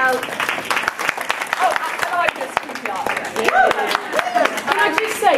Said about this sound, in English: Clare Lydon, the gorgeous Clare Ashton, I need a clap, Rizzo.